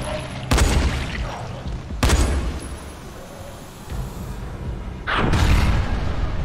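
Three heavy gunshot blasts in the video game Dying Light, spaced a couple of seconds apart, each booming loudly over a dense, noisy background.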